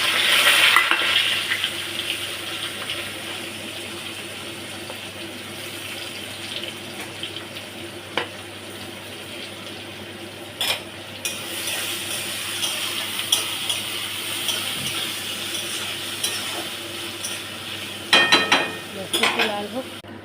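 Potatoes, onion, ginger-garlic, bay leaf and spices frying in hot oil in a home kitchen give a soft steady sizzle, with occasional stirring clatter and a few louder scrapes near the end.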